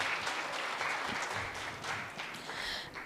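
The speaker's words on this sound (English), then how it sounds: "Please give big applause for our three keynote speakers." A conference audience applauds the three keynote speakers at an international law, economics and governance event, a soft, fairly distant ripple of many hands clapping that stays steady throughout.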